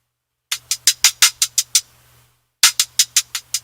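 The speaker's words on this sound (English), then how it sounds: "the same hi-hat sound" Short, clipped hi-hat hits from an SP404 sample fire in two quick runs of evenly spaced ticks, bright and dry with a faint low hum under them and a brief gap between runs, with no one speaking.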